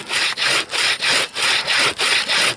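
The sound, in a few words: saw cutting frozen wood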